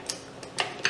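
A metal dough hook for a KitchenAid stand mixer being handled, giving a few short, light clinks and taps close by, about four in quick succession.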